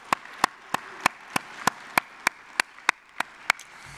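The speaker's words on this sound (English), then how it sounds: "let's give him another round of applause" Slow, single-person handclaps at a transit foundation scholarship awards ceremony, about a dozen sharp, evenly spaced claps roughly every third of a second, crisp and close with nothing else behind them.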